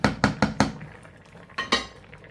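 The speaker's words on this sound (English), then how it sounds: "Give it one more stir" Spoon scraping and knocking against a pot of bubbling rice as it gets a final stir, several quick close clinks at a steady rhythm, then a pause and a couple more knocks.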